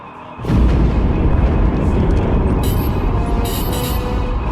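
Starship omni cannons fire at a capital ship in the video game Star Wars: The Old Republic, a sudden loud blast that swells into a sustained roaring barrage with bright crackling bursts on top.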